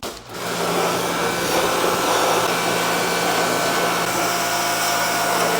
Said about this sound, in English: Get it fully saturated, let it soak in for a minute, pressure wash it off